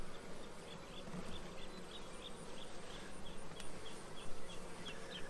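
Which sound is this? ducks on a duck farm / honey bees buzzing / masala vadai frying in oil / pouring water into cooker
honey bees buzzing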